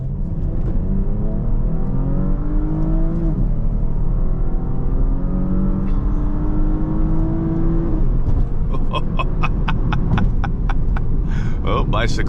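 2023 Porsche Panamera Platinum with a 325-horsepower engine accelerating hard, a loud rising engine note climbing through the gears with brief shift dips, heard from inside the cabin, with speech-like tones mixed in.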